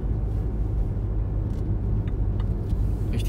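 A car rolls along during a driving lesson, its steady low engine and road rumble filling the cabin from close inside, with a few faint clicks and no speech.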